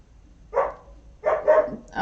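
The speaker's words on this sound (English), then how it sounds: "Actually, I think he's barking at the cat." Dexter, a house dog, lets out a few short, close barks aimed at a cat, one single yap followed by a quick double bark and another starting at the end, all fairly loud indoors.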